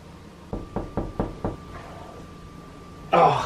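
Five firm knocks land on a door in an even, quick rhythm, close and distinct, followed by a pause and then a brief burst of noise.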